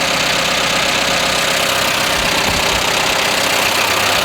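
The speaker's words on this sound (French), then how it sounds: "Pour le moment là le moteur il tourne bien." A Renault 11 GTL engine, restarted after eleven years sitting unused, idles steadily and loudly up close, a dense continuous rumble with no talk over it.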